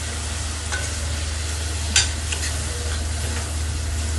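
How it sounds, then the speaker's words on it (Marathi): Tomato slices and turmeric powder sizzle in a pan while cooking a Maharashtrian okra curry (bhendi rassa), with a steady close frying hiss, soft stirring scrapes and one sharper clack near the middle; no voices. "बघा टोमॅटोचे काप करून याच्यात टाकले आहे"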